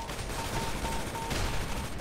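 Rapid gunfire in the video game Rust, a dense burst of shots that continues steadily for about two seconds over a noisy background.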